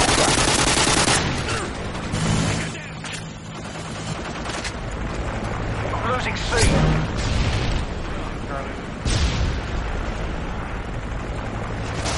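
Dense gunfire and explosions in a first-person shooter video game, continuous loud bursts and booms layered over one another, with talking mixed in.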